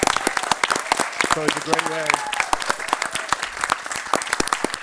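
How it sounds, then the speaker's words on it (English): A New Castle County budget address audience gives dense, sustained applause, loud and continuous throughout, while someone speaks over the clapping. "Can we give another round of applause to Madeline for that?"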